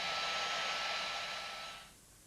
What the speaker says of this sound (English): Can you think of another hairdryer that combines these features?